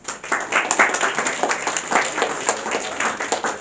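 A lecture-hall audience claps for one another: sustained, dense applause from many hands, close and fairly loud, with uneven peaks and no speech over it.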